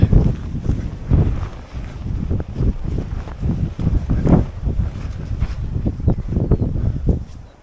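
Wind gusts buffet the microphone on an exposed cliff ledge at Flamborough, a loud, uneven low roar that surges and drops in repeated bursts throughout, with no talk.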